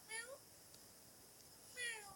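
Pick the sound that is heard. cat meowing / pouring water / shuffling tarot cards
cat meowing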